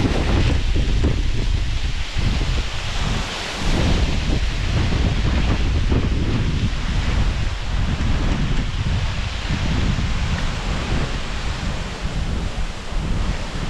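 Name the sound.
waterfall spray hitting the splash pool at Hell Gill Beck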